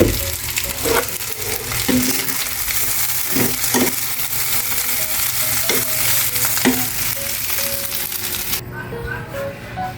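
Breakfast frying in a pan, a loud close sizzle broken by repeated spatula scrapes and clinks against the pan, with a brief melodic tone near the end and no clear talk.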